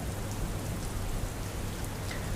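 Heavy rain pours over Palanpur in Gujarat amid waterlogged streets, a dense continuous hiss of drops striking surfaces, loud and unbroken with no voices.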